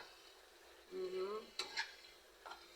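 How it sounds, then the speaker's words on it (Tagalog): Banana blossom vegetables stirred in coconut milk in a pot: a soft, faint stirring with a few light utensil clinks and scrapes in short bursts, quiet and close. "Haluin lang natin yan para ma-absorb ng gulay yung gata"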